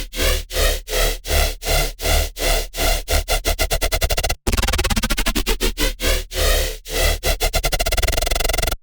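A loud, gritty multiband-compressed LFO bass synth pulses in a rapid rhythmic wobble, phasey and constantly moving, with a brief gap midway before a sweeping phased section resumes the pulsing pattern.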